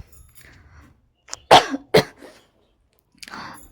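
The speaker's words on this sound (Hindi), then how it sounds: "खांसी मेरे को सच में हुआ" A few sharp coughs in a quiet room, two strong bursts close together followed by a softer one after a pause.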